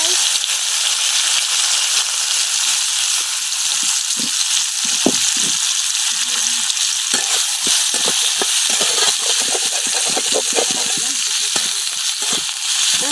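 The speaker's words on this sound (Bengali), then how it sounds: "পেঁয়াজ গুলা কিছুক্ষণ ভাজা নিলাম" Sliced onions frying in leftover oil from fried koi fish, a steady close hiss of sizzling with scattered pops and crackles throughout, no talk.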